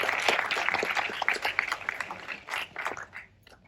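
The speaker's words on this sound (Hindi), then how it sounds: "इनके लिए एक जोरदार तालियां" An audience at a music celebration for the Marathi film Sangeet Manapman claps enthusiastically, a dense patter of many hands that gradually thins and fades out over a few seconds.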